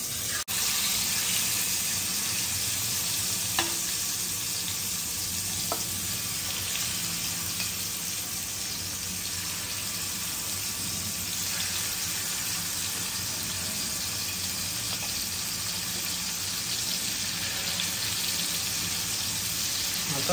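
Bois fish frying in hot oil in a pan, a loud continuous hiss and crackle with an occasional faint clink, steady throughout with no talking.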